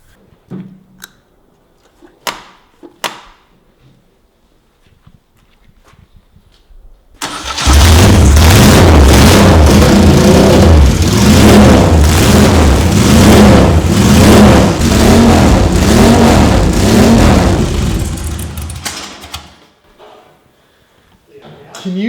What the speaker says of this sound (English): This is a factory Moto Guzzi race exhaust, which is completely open, but it carries 2 crossovers for flow and performance. It's very loud.